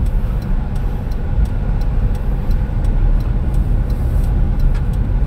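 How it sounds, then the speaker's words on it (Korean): A car's left turn signal ticks at a steady, even rhythm inside the cabin during a Korean road driving test, heard over a constant low engine and road hum. "우리 또 좌회전하니까 바로 좌측 깜빡이 켰습니다."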